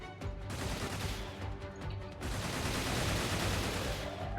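Sustained heavy gunfire from aircraft cannons in the alien-invasion strategy game Xenonauts 2, a dense, loud, continuous barrage with rapid overlapping bursts and no talking.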